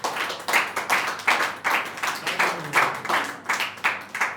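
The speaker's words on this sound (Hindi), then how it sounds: "एक बार ज़ोरदार तालियां पूरे मुल्क के लिए।" An audience at a shayari poetry gathering on a national independence celebration claps in steady, unison rhythm, with about three strong beats per second, close and even throughout.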